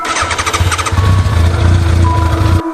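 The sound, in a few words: motorcycle engine starting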